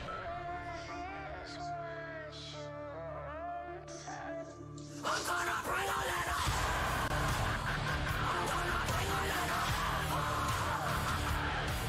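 A woman's scream rides within a played song recording, heavy distorted band surging louder midway as her voice cuts through the dense mix.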